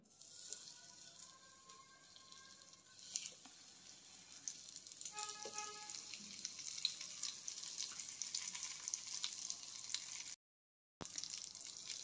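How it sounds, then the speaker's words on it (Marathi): Eggplant slices sizzle steadily in hot oil, a dense, continuous crackle with small popping bursts that drops to near silence for a moment and then resumes. "तेल गरम झालेलं आहे. आता ह्यामध्ये एक वांग्याचे काप घालते."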